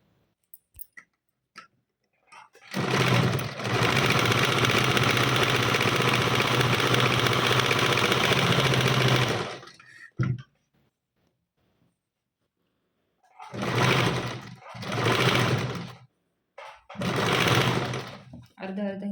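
A sewing machine stitches a frill dress, running in one long steady burst of rapid mechanical whirring, then stopping and starting again in several short runs, close and fairly loud.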